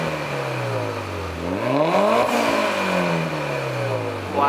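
A Mitsubishi Lancer Evolution 9 engine revs up and down in rising and falling sweeps, loud and close, with a throaty drone that climbs to a peak and then drops back.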